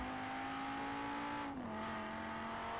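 Engine of an Audi RS2 Avant drives in Forza Horizon 4, a steady loud engine drone with a held pitch that drops slightly midway, continuous and close with road noise and no talking.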